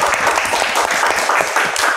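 A university audience claps for its lecturers at an Islamic law and economics faculty talk show, a dense, steady burst of applause filling a short moment.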